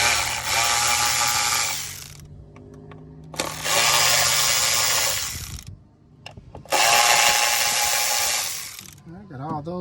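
Ignition coil bolts on a car engine loosened with a power ratchet or impact tool, three long buzzing bursts separated by short pauses with faint clicks and handling noises between them.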